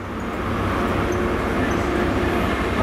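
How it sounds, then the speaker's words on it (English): A train rumbles past on its run back from Hereford, a steady broadband roar that holds level throughout without any clear rise or fall. "This is my train back from Hereford."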